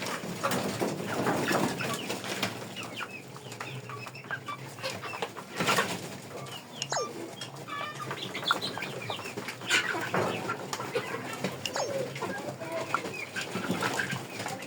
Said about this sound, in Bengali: এবার দেখবো মুরগিগুলা কিভাবে খাবারটা পরিবেশন করে,